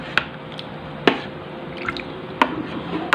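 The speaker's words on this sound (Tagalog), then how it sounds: "Haluin lang natin." A salad dessert with a little cheese being stirred in a bowl gives a few sharp wet clicks and soft squishes, spaced irregularly, close by and alone.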